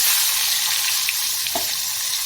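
Diced potatoes and eggplant fry in hot oil with a steady, close, hissing sizzle that runs unbroken throughout.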